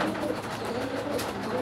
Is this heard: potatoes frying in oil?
no